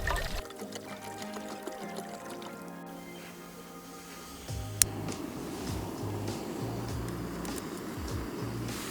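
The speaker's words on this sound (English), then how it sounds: "we're gonna start by adding in about 500 mils of water" About 500 ml of water poured into a cooking pot outdoors in snowy backcountry, a soft burbling liquid splash that starts midway and runs on steadily and fairly quiet after some faint handling noise.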